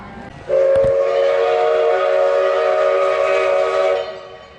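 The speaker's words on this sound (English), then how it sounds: "And I believe, according to Johnny, the train is coming." A steam train pulls into Tavares station, its whistle sounding a loud, sustained blast for about three and a half seconds before cutting off, with rumbling rail noise beneath.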